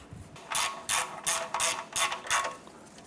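Ratchet wrench tightening the engine mount support bolt on a 1994-2004 Chevy S10, six quick clicking bursts in a steady back-and-forth rhythm, close and clear with no talking.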